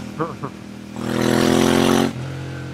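A Ducati Monster 796 motorcycle engine revs up loudly and roars for about a second close by, then drops back to a steady idle, with brief talk just before.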